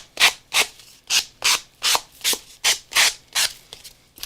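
Sanding block rubbed back and forth over an art surface in a steady rhythm, about nine scratchy, hissing strokes close to the microphone with short pauses between, no voices.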